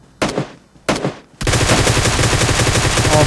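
Gunfire in PUBG Mobile Lite: two separate loud shots, then a sustained rapid automatic burst that keeps going to the end, close and dominant.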